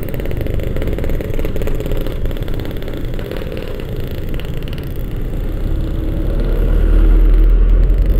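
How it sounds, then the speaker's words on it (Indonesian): Car and motorcycle engines idle and creep forward in a traffic jam, a loud, close, dense rumble with clattering that swells into a heavier low engine roar toward the end. "Jalan macet"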